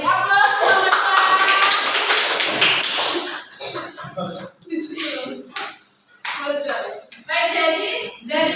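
Applause from a sixth-grade classroom during a microteaching lesson: a burst of clapping that fades after a few seconds, followed by scattered taps and thumps with voices speaking in the room.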